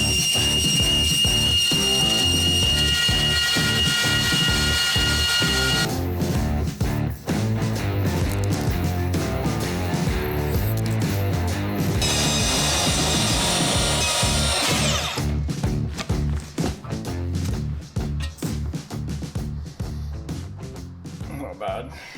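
Saw cutting through 7-inch chrome intake and exhaust stacks for a K100 cabover truck, a loud continuous rasping grind with shifting pitch, pausing and restarting in bursts.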